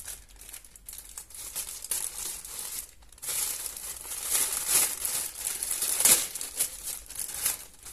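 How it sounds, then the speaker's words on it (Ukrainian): Crinkly plastic packaging rustles and crumples up close as a parcel is unwrapped, with quieter handling at first and louder, sharper crackling later. "Треба розпаковувати обережно, щоб нічого не порізати."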